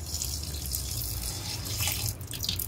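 Water runs steadily from a kitchen faucet to wash goat meat for curry, a continuous close splashing stream with no talking.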